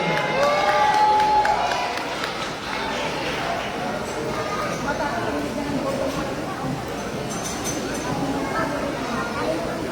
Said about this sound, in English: Round of applause for Carrie here.